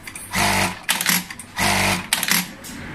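An industrial sewing machine with a keypad control box runs in two short bursts, each followed by quick clicks as the needle stops and lifts, close and loud with no talk.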